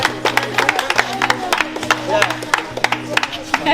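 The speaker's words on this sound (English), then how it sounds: "We'll give her a round of applause." A small gathering applauds Esther at a Christmas donation and birthday event, steady crisp hand claps in an uneven rhythm with crowd voices and a low background hum running underneath.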